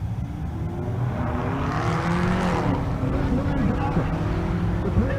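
A Cadillac CTS-V sedan and wagon drag race at a race-week event in Kearney, Nebraska, with loud engines roaring and rising in pitch as the cars pass nearby, and an announcer's voice partly under the noise.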